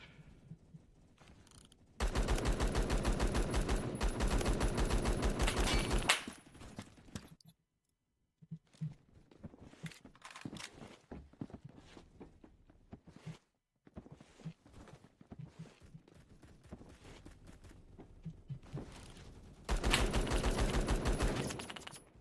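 Automatic gunfire in the online shooter Phantom Forces, with a DMR and a stun gun in play: two long, loud sustained bursts at the start and end, with scattered quieter shots, clicks and footsteps between.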